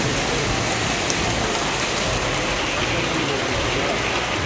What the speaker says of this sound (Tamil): மாவட்டம் முழுவதும் கனமழை கொட்டியது